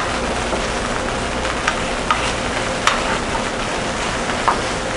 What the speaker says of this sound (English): We start out with the dry cooking method, searing the osso buco in the pan.